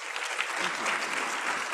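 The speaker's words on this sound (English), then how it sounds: "give them a round of applause" A brief burst of steady audience applause at a pediatrics business conference for the two presenters, dense clapping from a room full of people, moderately loud and unbroken.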